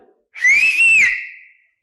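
A single police whistle blows at night on a street, one loud sustained shrill blast lasting about a second that rises slightly, then fades, with no talk around it.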